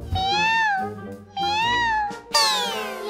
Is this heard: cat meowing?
yes